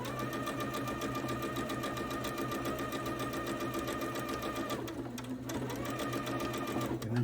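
A sewing machine stitches quilt blocks with a steady, fast mechanical whir and needle rhythm, pausing briefly midway before resuming, close and continuous.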